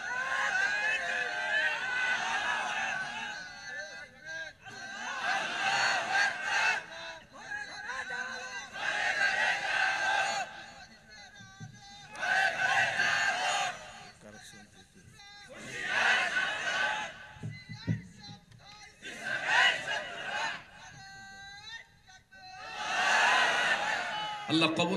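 A huge rally crowd in Bogura, Bangladesh chants slogans in loud rhythmic surges. Each roaring block of voices answers a lead voice, with quieter gaps between them, repeating throughout.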